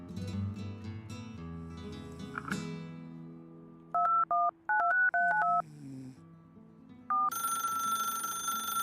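A telephone in a detective video game is dialed, the keypad giving a run of loud two-tone beeps after some clicks and background tones, and then a ring sounds near the end.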